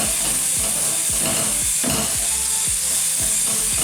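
Onions and curry leaves frying in a pan for chicken chilli flakes, with a loud continuous sizzle and hiss broken by repeated scraping strokes of a spoon stirring the pan, close up and without talk.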